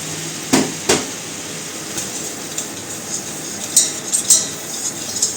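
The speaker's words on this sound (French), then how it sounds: "Voilà, je remue." Butter and flour being stirred together in a pan for a mac and cheese roux, with sharp utensil knocks against the pan and light scraping clinks over a soft background.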